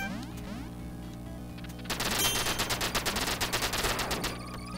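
Rapid bursts of gunfire from the video game Duck Game, a loud dense volley of repeated shots over looping game music, starting about two seconds in and continuing to the end.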